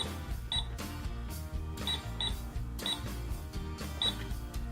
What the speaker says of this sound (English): we're going to be playing with the Mickey Mouse Clubhouse cash register